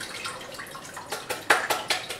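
Water poured into a soup pot while making dumpling and wonton soup, heard as soft splashing with a few louder bursts toward the end, close by and with no talk.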